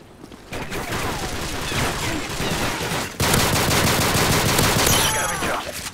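Rapid automatic machine gun fire rattles in the Modern Warfare 3 video game, dense and loud, in two sustained bursts with a brief break in between.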